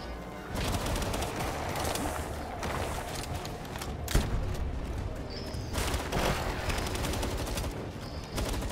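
Heavy gunfire in the video game Palworld, with rapid, continuous automatic shots rattling loudly throughout and a few sharper bangs standing out.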